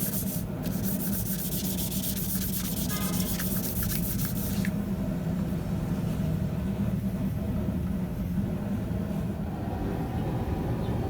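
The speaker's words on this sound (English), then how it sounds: "I want to get that hardened boric acid off my anvil face" Hardened boric acid flux is scraped off a steel anvil face. A bright, gritty scraping lasts several seconds up close, then gives way to a duller, steady rubbing rasp.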